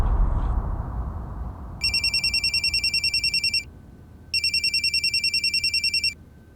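A mobile phone rings in two bursts of rapid, trilling electronic tones, each lasting about two seconds, loud and clear over a quiet room hum with no talking.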